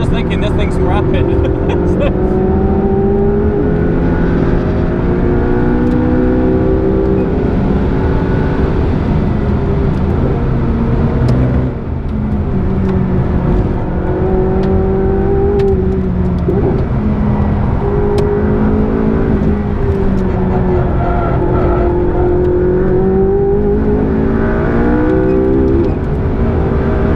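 A McLaren 675LT on slicks accelerating around a race track, its engine roaring loud and close throughout, pitch climbing and dropping through gear changes, with a voice talking over it.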